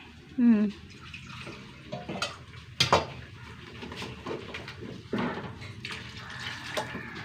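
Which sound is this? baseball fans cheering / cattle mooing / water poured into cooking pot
water poured into cooking pot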